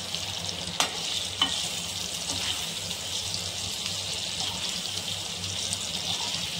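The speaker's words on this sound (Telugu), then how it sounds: "జాగ్రత్తగా టర్న్ చేయాలి ఫ్రెండ్స్, లేకుంటే చెదిరిపోతుంది పన్నీర్ ముక్కలు అనేది" Paneer pieces being stirred in a sizzling masala pan, a steady close frying hiss with a few light scraping clicks of the spoon, no talk.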